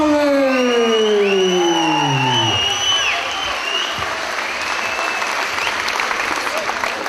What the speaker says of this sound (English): Let's hear it for Jared Farre.